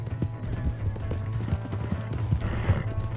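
Horse hooves clip-clop steadily over a dense rumbling background in the Red Dead Redemption 2 game world, with a possible whinny and some mechanical clatter mixed in.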